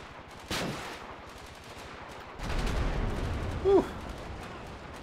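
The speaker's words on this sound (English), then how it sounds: "I still hear my guys shooting" Rapid automatic gunfire from squadmates in Grand Theft Auto V, bursts of fast repeating shots with heavier blasts and a brief tone, over game background noise.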